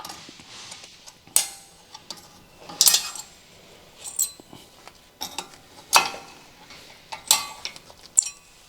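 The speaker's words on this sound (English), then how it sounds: "Using the flathead screwdriver, remove the brake pad retaining clips." Metal brake pad retaining clips on a Honda Civic being pried off with a flathead screwdriver, making sharp scattered clicks and light metallic ticks at irregular intervals, close and fairly quiet with no talking.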